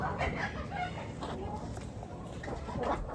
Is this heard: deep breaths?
no